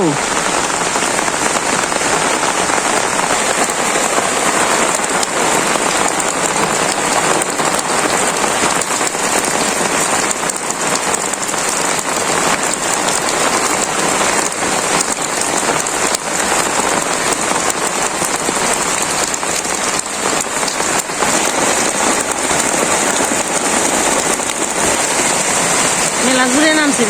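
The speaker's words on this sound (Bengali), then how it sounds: "বৃষ্টির আর শেষ নেই" Heavy rain pours onto surfaces in a dense, loud, continuous roar of hissing drops, steady from start to finish with no letup.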